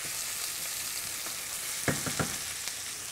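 Garlic fries in a pan for chicken cacciatore, a soft, steady sizzle broken by a few quick wooden-spoon scrapes across the bottom of the pan near the end.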